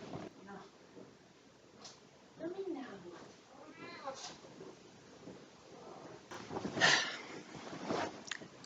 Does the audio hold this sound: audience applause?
no